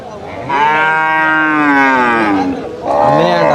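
At the Sardarnagar cow market, a cow lets out a long, loud, close moo, followed after a short pause by a second shorter moo.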